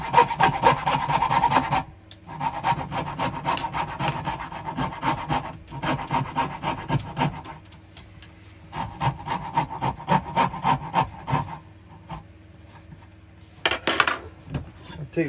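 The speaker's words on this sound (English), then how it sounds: "Now you just finish it with the chisel." A chisel pares wood on a dovetail box in close, scraping, rasping strokes that come in bursts separated by brief pauses.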